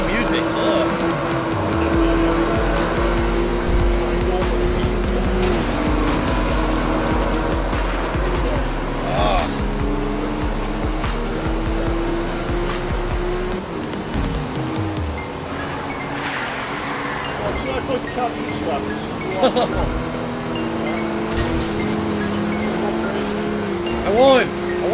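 Race cars in the Need For Speed Rivals video game roar continuously, engines revving and shifting with occasional tire squeals, under a player's excited talk and background game music.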